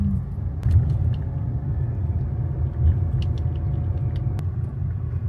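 A car rolls slowly along a road toward the Devhare market in coastal Maharashtra, giving a steady low rumble of engine and tyres close by, with a few faint clicks and no talk.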